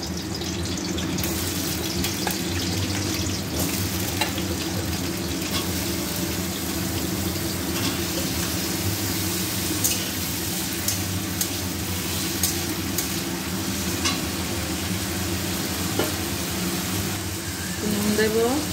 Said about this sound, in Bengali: এখানে আলু কেটে নিয়েছিলাম মোচার জন্য, আলুটা ভেজে নেব।